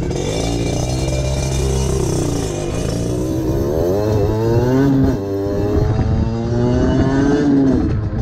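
A 50cc moped fitted with a Most exhaust pipe riding along, its loud buzzing two-stroke engine rising and falling in pitch as it revs and shifts through speeds, close and continuous with no talking.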